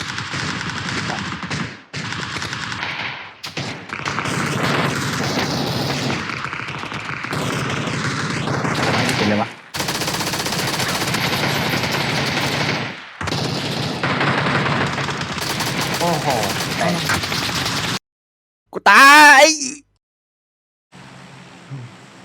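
Gunfire in the video game PUBG: loud, dense bursts of automatic fire and rapid shots in long runs, broken by brief pauses, ending with a short, sharp burst after a silent gap.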